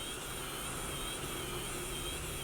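A steam hair styling tool used for a blow-dryer-free blowout on natural hair gives off a steady, faint, even hiss and hum that does not change over its short length, with no talking.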